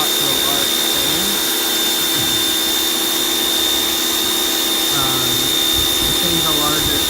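An HGTV Home 1750 PSI electric pressure washer sprays steadily with its adjustable nozzle, a continuous loud hiss and motor drone held throughout, with brief shifts in tone.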